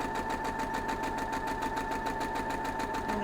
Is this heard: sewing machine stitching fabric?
yes